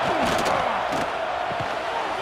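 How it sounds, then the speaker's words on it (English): Stadium crowd at an Alabama vs Auburn college football game, a dense, loud roar of cheering and yelling that holds steady throughout, with scattered shouts rising out of the mass. "Listen to the crowd energy here in the early going."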